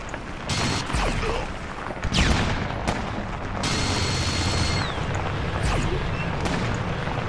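Grenade blast and gunfire in the Fallout Tactics game, a dense, continuous barrage of loud cracking shots and bursts filling the whole stretch, with a heavier impact around the middle and no talking.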